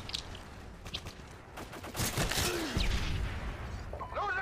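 Gunfire in Call of Duty: Modern Warfare 2, a multiplayer match on the Afghan map, with rapid bursts and broadband shots building over the latter half amid a noisy, laggy firefight; a voice is faintly present.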